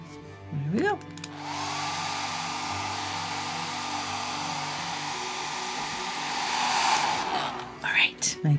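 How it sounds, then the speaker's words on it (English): A hair dryer blows steadily and loudly for several seconds, drying cardboard pieces, starting and stopping with brief clicks, with a short voice near the end. "Come here, hair dryer."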